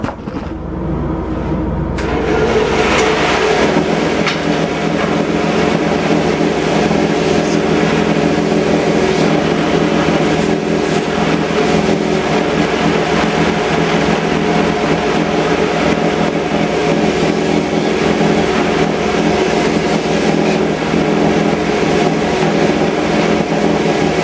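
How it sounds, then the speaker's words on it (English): A table sander set flat runs continuously, smoothing twigs into halves for furniture trim; a loud, steady motor drone starts after a brief quiet moment and holds unbroken, with no talking. "I use a table sander here, and I never have the table sander upright"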